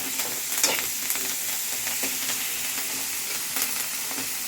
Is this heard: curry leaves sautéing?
yes